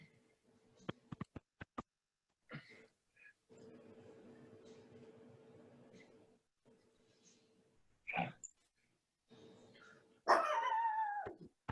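A dog barks in short, sharp bursts with yips and whimpering whines, close and fairly loud, separated by quiet gaps and a stretch of low background hum.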